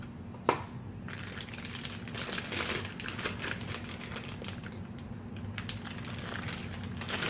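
Salmon fillets with skin on sit in a Ziploc bag with teriyaki marinade, which is shaken so the bag crinkles and the liquid sloshes faintly and continuously, close up.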